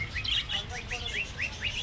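Budgerigars chirp rapidly and continuously at moderate distance at a bird market, a busy overlapping twitter over low background noise.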